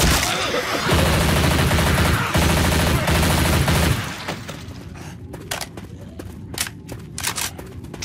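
Sustained machine gun fire rips through Left 4 Dead 2 in a dense, loud burst lasting several seconds, then stops abruptly, leaving sparse single shots and clatter.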